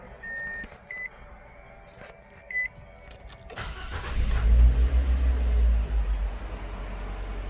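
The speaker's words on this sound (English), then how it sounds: "Gonna turn the ignition switch off and then turn it back on and see if we have the notification." A 2018 Nissan Sentra gives a few soft electronic chimes and clicks while the ignition is off, then its engine catches and settles into a steady low idle that continues to the end.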